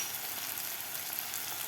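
Dry spices, turmeric, red chili powder and salt, sizzle in a pan with softened tomato for amla dal; a steady, close, even frying hiss runs unbroken with no voices.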